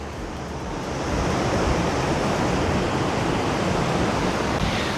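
Pacific Ocean surf breaking on the shore below a beachfront terrace, a broad continuous wash of waves that swells louder after the first second and stays full and steady, with no one speaking.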